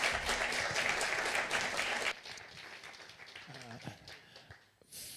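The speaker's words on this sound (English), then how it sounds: "Applause again." Audience applause at a housing symposium, a dense burst of clapping for about two seconds that quickly fades into room murmur and faint voices.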